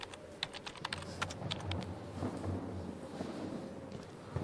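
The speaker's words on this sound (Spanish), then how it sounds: "cuando toco el teclado suenan como teclitas" Quick taps on a keyboard click in a brief irregular flurry, faint, then fade into a low ambient hum in a dark horror-game setting.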